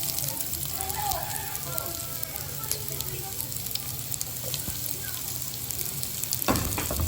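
Garlic and chopped onion sauté in a hot pan for humba, giving a steady, close sizzle throughout with a sharper burst of frying near the end.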